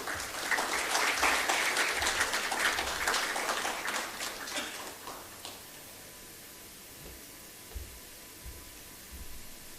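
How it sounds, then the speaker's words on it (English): An audience at an Actuaries Day celebration applauds as the president comes on stage, a full round of clapping that gradually thins and fades out over the second half, leaving quiet room noise with a few faint bumps. "With a huge round of applause, please, I would like to invite on stage our president"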